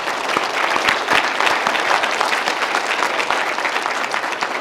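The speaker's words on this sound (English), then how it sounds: "let's give them one more big round of applause." A luncheon audience applauds steadily for several seconds, dense clapping from many hands filling the room without a break.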